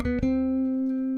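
A bass guitar closes a fill with a couple of quick plucked notes, then one low note rings out and sustains steadily to the end, clear and close with no talking.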